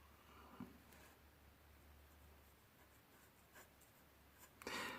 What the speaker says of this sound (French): c'est pas gênant de colorier sur du crayon de papier.